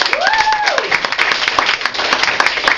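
Audience applause after a poem reading, a dense steady patter of many hands clapping throughout, with a brief whistle-like tone near the start.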